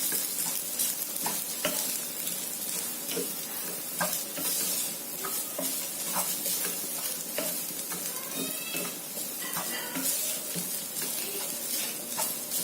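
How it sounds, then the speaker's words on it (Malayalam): Grated coconut and spices frying in oil and stirred steadily, with a constant crackling sizzle and frequent scrapes and taps of the spatula against the pan, fairly close and without speech. "നല്ല ഒരു ഗോൾഡൻ ബ്രൗൺ കളർ ആകുന്നത് വരെ നമുക്ക് തേങ്ങയെ വഴറ്റിക്കൊണ്ടിരിക്കാം."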